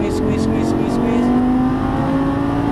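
A Lamborghini Gallardo Superleggera LP570-4 engine pulls hard on a race track, a loud sustained rising drone under steady talking, with a few faint ticks early on.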